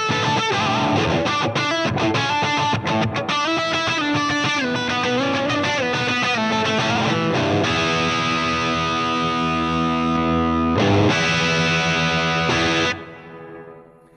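Distorted electric guitar played through a Marshall YJM100 head switched to 50 watt mode with reverb, a fast lead run giving way to sustained compressed chords that ring out and cut off near the end.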